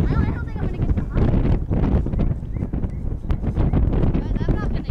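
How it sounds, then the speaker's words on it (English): Strong wind buffeting the microphone on an open football field, loud low rumbling gusts throughout with brief voices mixed in. "It's so windy!"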